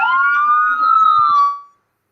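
A single wailing siren tone rises and holds, loud and close, then fades out, with a couple of soft thumps underneath.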